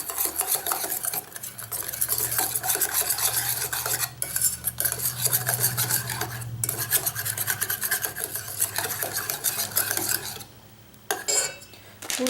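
Cupcake batter for diet Nutella cupcakes being mixed in a bowl, a continuous close scraping and rubbing of utensil against the dish with a brief pause near the end.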